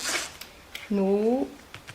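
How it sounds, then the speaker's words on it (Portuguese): A zipper for a men's toiletry bag is handled at a sewing table: a short rasp at the start and a few faint clicks and scrapes follow, with a brief spoken voice in between. "Vou colocar aqui o zíper"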